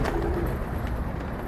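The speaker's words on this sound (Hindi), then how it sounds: "बाहर आ गए कबूतर भाई" Pigeons coo softly as they come out of a loft, a short low cooing call near the start over a murmur of background noise.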